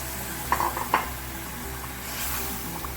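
Chickpeas fry in masala in a pan, a soft steady sizzle with a couple of clinks from the spoon stirring against the metal, no talking.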